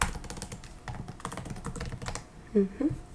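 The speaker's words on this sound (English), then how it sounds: "Just gotta type that." Soft, close typing on a computer keyboard, a steady patter of light key clicks running throughout, with a brief quiet voice near the end.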